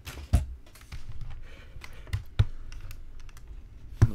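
A computer keyboard and mouse are shifted across a desk, producing a few sharp knocks and thuds among soft scraping and light clicks, close by and fairly quiet.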